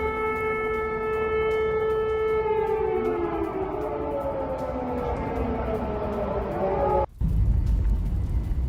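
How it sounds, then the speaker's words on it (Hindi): A wailing civil-defense air raid siren sounds across Ukraine during a missile alert, its rising and falling tones sweeping for several seconds before cutting out abruptly, followed by a brief burst of low rumbling noise. "पूरे यूक्रेन में आप देखिए हमले का एयर रेड अलर्ट सायरन बज रहा है।"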